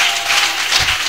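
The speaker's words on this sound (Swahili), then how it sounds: "Tumshangilie Bwana Yesu kwa makofi zaidi." A congregation at a church service applauds, the dense clapping of a crowd running steadily through the short moment, loud and fairly close.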